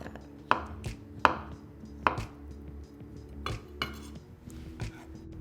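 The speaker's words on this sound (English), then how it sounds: "just take the tip of your knife again and just make little slices like that" A knife tip makes small slices through a peeled avocado on a cutting board, giving several sharp close taps against the board in an uneven rhythm with soft kitchen handling noise between them.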